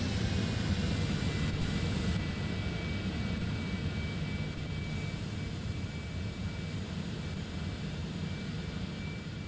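Simulated business jet on final approach in Microsoft Flight Simulator 2020, a steady, loud engine roar and broadband whine held continuously with no talk.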